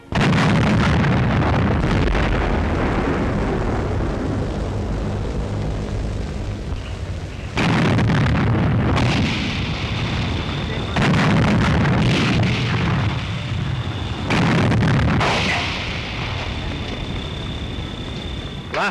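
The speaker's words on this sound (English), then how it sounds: "Siege of the doomed capital of Poland, the city under bombardment." Artillery bombardment of Warsaw during the 1939 siege, heard as loud, continuous booming and rumbling explosions in dense succession, with bursts of blasts recurring throughout and a high thin tone at times.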